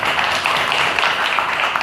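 An audience claps at a lecture, a steady, dense patter of many hands that runs continuously and loudly through the moment with no talk over it.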